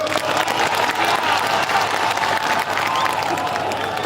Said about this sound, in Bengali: একবার ওর জন্য জোরে তালি হোক